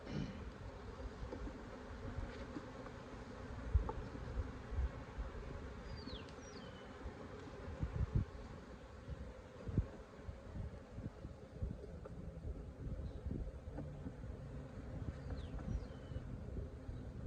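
Honey bees hum steadily around an open hive during the first inspection of the year, a dense, continuous drone close by with occasional louder passes of individual bees and faint rustling of frames.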